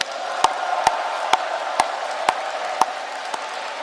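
A crowd at a Saemaul Undong leaders' gathering claps in unison: a steady, regular beat of about seven sharp claps over a continuous murmur of crowd noise.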